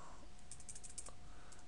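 Someone types on a computer keyboard while entering a message-of-the-day banner in a Cisco IOS command line: a faint, quick run of light key clicks, close by, with a short pause before a few more taps.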